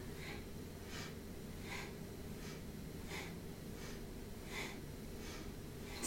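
Steady nasal breathing in and out during a yoga spinal twist, about eight soft breaths in an even rhythm, close and faint over a low background hum.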